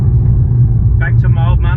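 Aston Martin DBS Superleggera engine in Sport Plus mode, a loud, steady low rumble throughout, with a voice speaking over it in the second half.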